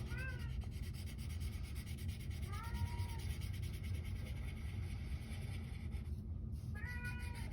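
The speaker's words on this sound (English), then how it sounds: "Sorry about my cat." A cat meows a few times, faint and thin, over a constant low rumbling background, with short high calls near the start, middle and end.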